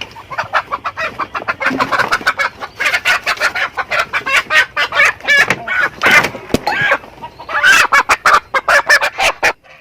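Native chickens, a hen among them, clucking and cackling close by in a rapid, busy series of loud calls that continues throughout.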